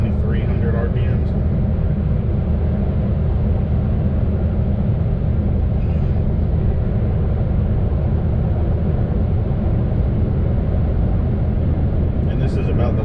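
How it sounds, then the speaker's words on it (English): A steady low rumble and tire roar fills the cabin of a Chevy Sonic cruising in sixth gear at highway speed, around 73 to 80 mph, continuous and fairly loud, with a voice talking faintly over it. "this is about the level of road noise you would get in something like this"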